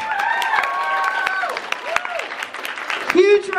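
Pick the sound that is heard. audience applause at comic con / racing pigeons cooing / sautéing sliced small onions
audience applause at comic con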